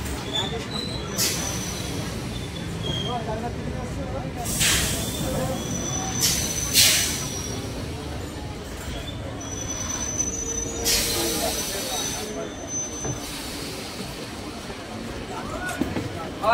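A MEMU commuter train pulls into platform 2 at Birnagar station, its wheels rumbling and squealing under steady background noise as people talk on the platform.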